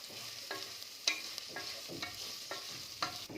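Mint leaves stir-fried in a pan for coconut milk rice, a spatula scraping in steady strokes about twice a second over a soft, constant sizzle, close and clear with no talking.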